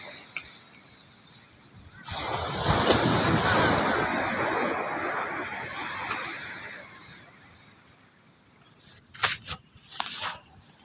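A sea wave rushes in and washes over the shore, swelling loudly then fading, with wind noise and a few faint knocks afterward.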